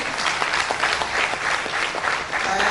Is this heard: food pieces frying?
no